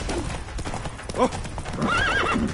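In The Witcher video game, Roach the horse whinnies sharply over quick galloping hoofbeats, a short close burst with a voice briefly heard.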